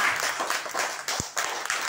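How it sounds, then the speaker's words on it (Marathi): Young children clapping for a classmate during a classroom globe activity, a short burst of uneven, scattered applause with a soft voice underneath. "clap for Chhaya"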